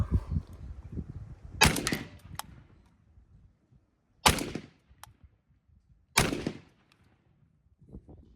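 Franchi Affinity 3 shotgun fired outdoors, three loud sharp blasts spaced a couple of seconds apart, each with a short echoing tail, against quiet background rustle.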